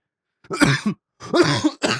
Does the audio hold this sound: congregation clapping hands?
no